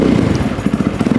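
A dual sport motorcycle fitted with a newly swapped aftermarket exhaust starts up and runs close by, a loud, throaty engine burble with a pulsing, uneven rhythm and no voices over it.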